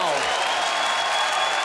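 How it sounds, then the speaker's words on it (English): A wrestling crowd at a Lucha Underground main event cheering and applauding, a dense, loud wash of claps and shouts sustained throughout, with a brief voice at the very start. "The crowd is on its feet."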